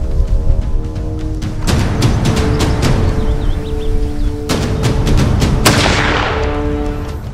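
Several loud gunshots crack out at irregular intervals during target shooting through bushes, each sharp report ringing off into a sustained echoing tail, with no talking.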